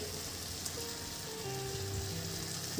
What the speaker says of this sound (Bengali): কুমড়ো শাক রান্না হচ্ছে